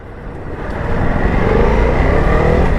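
A Ducati Multistrada V2S motorcycle with 113 horsepower rides through city streets, its engine a close, rising rumble mixed with road noise, with no talking.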